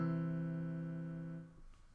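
Two synthesized notes sound together from a Max 7 keyboard patch, a steady harmonic-rich tone held for about a second and a half before fading out, played alone with no talking.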